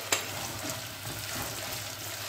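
About 100 grams of garlic and 200 grams of shallots hiss and sizzle as they fry in a pan for a meat and onion stew. A steady, soft frying crackle is heard up close, opening with a single brief clink, and no one speaks.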